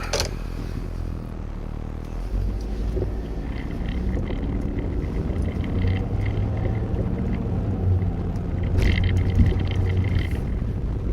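A car pulling away and driving, heard as a steady low engine rumble with road and wind noise that swells slightly as it gets underway.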